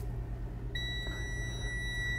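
An electronic alert beeps inside an RV coach tilted forward, a steady high electronic tone starting partway through and holding over a low rumbling background hum, with no voices.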